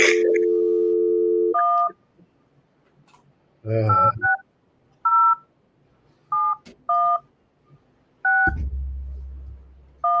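Telephone keypad tones sound over a speakerphone: a run of short, clean two-tone beeps spaced irregularly, mixed with bursts of muffled speakerphone audio and a low steady hum near the end.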